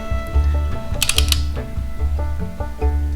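Ratcheting clicks and mechanical clatter from a torque wrench tightening cylinder head bolts on an L134 Go Devil engine, with a dense burst of sharp ratchet ticks in the middle over a steady low hum.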